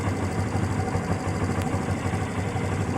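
Kawasaki Barako motorcycle engine idling steadily after its idle was adjusted low, a continuous low rumble with even pulsing and no talk, close and moderately loud throughout.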